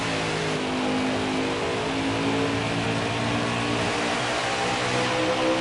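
Race trucks roar around the Bristol Motor Speedway short track during a Craftsman Truck Series race, a steady blended engine drone with sustained harmonic whine and no pauses, fairly loud throughout.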